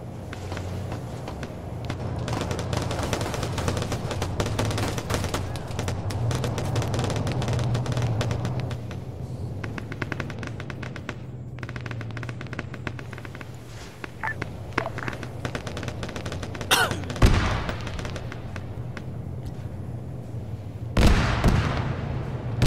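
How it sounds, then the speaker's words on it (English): Gunfire in the Arma 3 military shooter game, with rounds going off at a distance as sporadic cracks and bursts over a low rumbling battlefield background, plus a couple of louder nearby shots late on. "Hearing some rounds going off over here."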